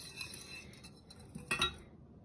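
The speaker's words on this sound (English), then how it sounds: "We just wanna whisk it in there." A whisk works gingerbread dough mixture in a bowl with quiet, rapid scraping swishes. A brighter metallic clink of the whisk against the bowl rings out near the end of the brief burst.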